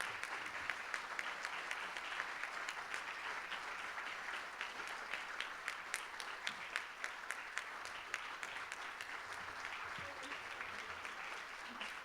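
Audience applauding award honorees at a water safety summit: steady, dense clapping from a crowd, sustained evenly for the whole stretch at moderate loudness.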